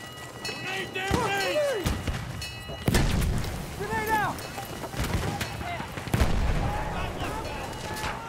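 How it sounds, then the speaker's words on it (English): A grenade in Battlefield 1 Rush mode on the Ballroom Blitz map goes off with heavy booming blasts among gunfire and battle clatter, while players talk over the action. "Grenade out!"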